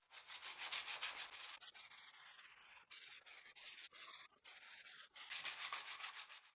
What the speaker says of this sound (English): With regular 80 grit sandpaper, I'll do the first sanding only on these 2.